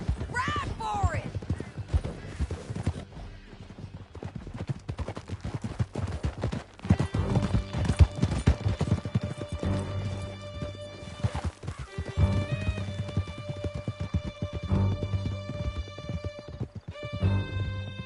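Horses gallop with rapid hoof clip-clops and an occasional whinny while riders flee through a canyon in the Red Dead video game, loud and continuous under urgent shouting and music.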